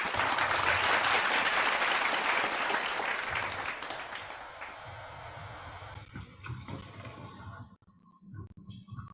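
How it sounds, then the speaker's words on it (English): An audience at a partners' appreciation ceremony gives a sustained round of applause for an arriving guest speaker, loud dense clapping that gradually fades out over several seconds. "Let's all welcome him with a round of applause."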